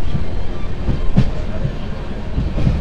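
A passenger train rumbles steadily near Naxalbari railway station, with rhythmic wheel clicks over rail joints heard loud and close from inside the moving carriage.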